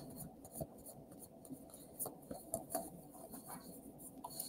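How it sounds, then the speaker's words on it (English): Tarot cards are shuffled by hand, soft irregular riffles and papery flicks in quick bursts, close and faint with no talking. "Shuffle, shuffle, shuffle."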